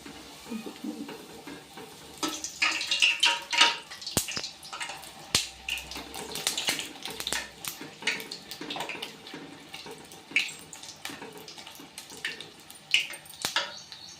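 Sesame wheat-flour papad snacks frying in hot oil in a pan, a close, crackling sizzle that rises and falls in bursts, with a few light clinks of utensils.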